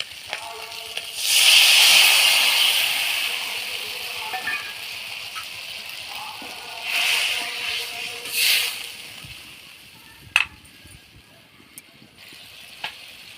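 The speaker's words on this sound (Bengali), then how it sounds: "তেঁতুলের জলটা দিয়ে দেব।" Tamarind water is poured into a hot pan of panch phoron and dried chillies for a village-style sour tamarind dish, giving a bright sizzle that swells quickly, fades, then flares again more briefly, with a few sharp pops near the end.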